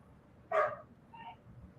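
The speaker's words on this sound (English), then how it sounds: "You can hear my dog getting in trouble with my mom out there." A dog barks once somewhere else in the house, a single fairly clear yelp with a fainter second call following, heard at a distance over a low background murmur.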